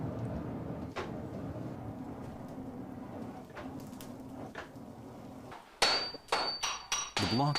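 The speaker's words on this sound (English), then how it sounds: "The block is stretched by hammering it to double its original length before folding." A hammer strikes a steel block being forged into a traditional Japanese katana; scattered faint knocks give way to a rapid run of loud, sharp metallic blows close by near the end.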